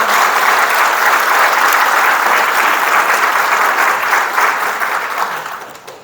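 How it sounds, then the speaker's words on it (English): An audience at a groundbreaking and naming ceremony gives Governor Parson loud, dense, sustained applause, which tapers off slightly toward the end. "let's give him another round of applause for support of Missouri State West Plan"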